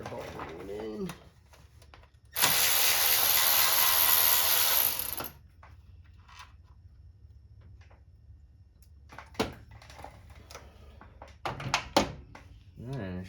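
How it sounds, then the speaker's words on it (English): A ratchet tightens a timing cover bolt on a 2001 Mazda Miata 1.8 VVT engine: a close, dense clicking burst of about three seconds, then scattered tool clanks and handling noises with a voice speaking nearby. "Timing cover bolt going in."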